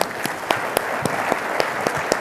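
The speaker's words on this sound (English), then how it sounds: "Let's give him a round of applause." Applause from a conference audience greeting a director taking the stage, steady dense clapping with a few sharper individual claps standing out, moderately loud and without voices.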